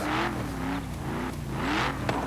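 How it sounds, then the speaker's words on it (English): A car engine in the racing game Forza Horizon 4 revs repeatedly in a few surging rises and falls, moderately loud and close, with no speech over it. "I'm just revving the engine because I'm bored, of course."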